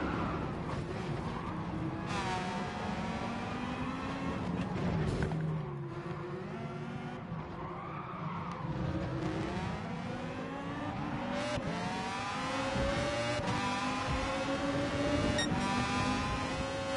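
Race cars in Gran Turismo on PS5, engines screaming as they rev through gear changes and sweep past one another, loud and continuous, with tires squealing at moments.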